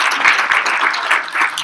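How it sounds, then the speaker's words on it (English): A classroom audience breaks into sustained clapping, a steady wash of many hands at close range with no speech over it. "Yes, let's clap for that."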